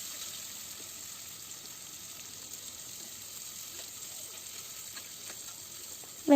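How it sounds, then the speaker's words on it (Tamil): Two large sliced onions sauté gently in a pan for mushroom biryani, giving a soft, steady sizzle at moderate volume with no talking. "எல்லாத்தையும் சேர்த்துட்டு இதை நல்லா லைட்டாக வதக்கிக்கோங்க."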